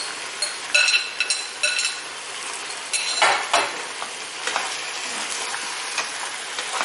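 Grated bottle gourd (lauki) being stirred into meat in a pan, giving a steady close sizzle with scraping spoon strokes and a few light clinks of utensil on metal, no voices.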